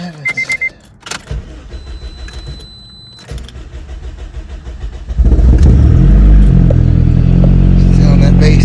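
A Honda Civic with an R18 engine: key clicks and a short crank, then the engine catches at about five seconds and runs loud and steady to the end, close to the car.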